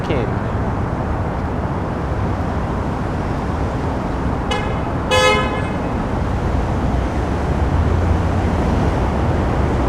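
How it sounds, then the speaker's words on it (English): Car horns honk in Toronto traffic on Lake Shore beneath the Gardiner Expressway, with a short toot and then a longer blast standing out over steady road noise. "Will there be a wave of honking?"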